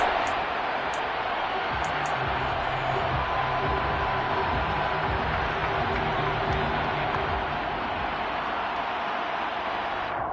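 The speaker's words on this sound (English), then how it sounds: "That just means this crowd's going to get even louder." A stadium crowd in a Madden football video game roars in a steady, dense wash of noise that holds loud and unbroken throughout, with no clear voices standing out.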